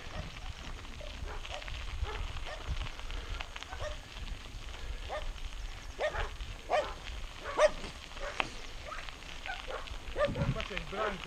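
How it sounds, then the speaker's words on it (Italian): A pack of dogs barks at scattered intervals in an open meadow, the barks moderately distant and mixed with rustling and wind noise, while someone talks intermittently. "Qua c'è il branco di cani."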